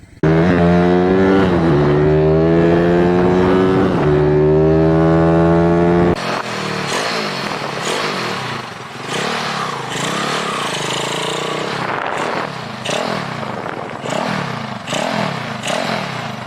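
An SND ZS 190cc motorcycle engine in a Daytona Anima replica idles with a steady harmonic drone, then revs and pulls away into a rougher, fluctuating roar that continues as it rides on.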